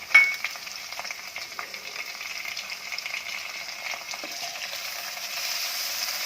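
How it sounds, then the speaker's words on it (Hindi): Ginger garlic paste sizzles as it fries in a pan while being stirred, a continuous close crackle with occasional scraping, starting with a brief louder burst and then settling into a steady hiss. "अब इसमें जिंजर गार्लिक पेस्ट भी डाल देंगे और उसको भी 1 मिनट तक भूनेंगे।"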